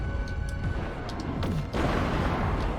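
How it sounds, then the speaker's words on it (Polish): Explosions in the Destroy All Humans video game, a booming, crashing blast erupting midway over rumbling game noise, with smaller impacts before it and a sustained roar after. "Ładnie wybuchło."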